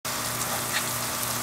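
Rain falls as a steady, dense hiss that begins abruptly and stays even and fairly loud throughout, with no voices.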